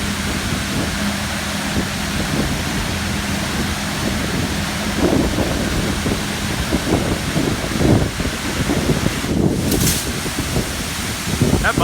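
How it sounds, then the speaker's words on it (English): A car wash water sprayer blasts toward the camera at a D&S 5000 automatic wash, a loud, rough, continuous rush of spray and wind-buffeted noise with splattering bursts, growing harsher toward the end. "the sprayer there is a little out of orientation. This is flying towards me."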